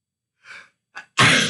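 A single sharp sneeze, preceded by two quick breathy inhales, bursts out loud and close at the end, with no talk around it.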